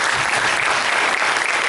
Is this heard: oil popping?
no